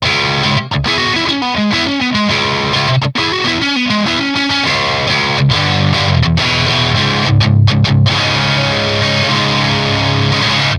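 Electric guitar on the neck pickup played through a Victory Kraken MKII amp, loud and continuous, with a driven, distorted tone and a slight chorus-like shimmer, strummed chords and riffs with brief gaps, no voices.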